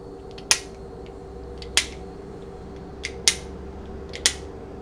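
Sharp metallic clicks at uneven intervals, five or six in all, from the ratchet slipping as a boat outboard motor's propeller shaft is turned backwards, over a low steady mechanical hum.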